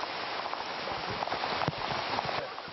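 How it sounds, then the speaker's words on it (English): Heavy jungle rain pours down steadily at night, a dense, continuous hiss of water drumming on surfaces with scattered louder drops. "It's a full jungle downpour."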